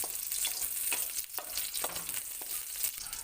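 Garlic sautés in hot oil for fish pochero, a steady bright sizzle broken by a few short stirring scrapes, close and alone without talk.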